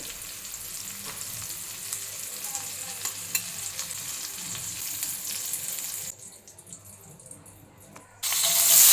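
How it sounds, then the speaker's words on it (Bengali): Cabbage frying lightly in oil: a steady, close crackling sizzle that drops to a quieter hiss for a couple of seconds, then surges back louder at the end, with no talk. "এরপর সেম তেলের মধ্যে আমি বাঁধাকপিগুলোও একটু ভেজে নিচ্ছি হালকা করে"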